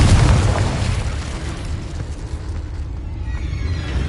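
A Confringo fire spell detonates in Hogwarts Legacy with a loud, booming blast at the start, then a long rumbling, crackling tail that gradually thins out over several seconds, with no voices.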